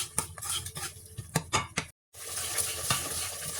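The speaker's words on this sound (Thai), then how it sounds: "พริกแกงของเขาหอมใระชามากๆเลยจ้ะเพื่อน ๆเดี๋ยวเราคั่วให้หอมจ้ะ" Thai curry paste being dry-roasted in a pan for a chicken curry sauce, with sharp metal spatula scrapes and clanks against the pan over a soft sizzle, a brief silent gap, then steady frying.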